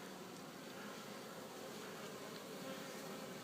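Honey bees at treatment-free hives make a steady, dense, faint buzzing hum that continues without break, with no voices.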